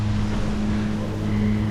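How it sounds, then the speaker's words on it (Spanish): Warm evening wind blowing steadily at a beach in Búzios, a continuous rushing hiss with a low engine-like hum beneath it and no voices. "está corriendo un poquito de viento. Viento caluroso igual."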